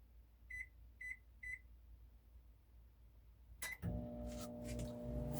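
A microwave oven gives three evenly spaced electronic beeps in a quiet room while cooking camp pasta, then starts up with a loud, steady running hum and rattle.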